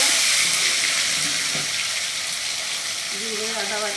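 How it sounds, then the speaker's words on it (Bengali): Bay leaf, cumin and tomato sizzle as they temper in hot oil for a fish curry, a steady hissing fry held close under faint household background noise. "তো মা এখন মাছের ঝোলের জন্য ফোড়ন দিয়ে দিচ্ছে।"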